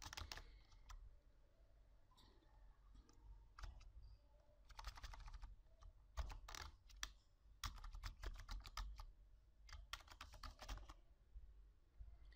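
A username and password are typed on a computer keyboard, with bursts of quick close key clicks separated by short pauses.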